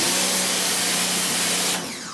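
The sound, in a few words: pressure washer spraying a print screen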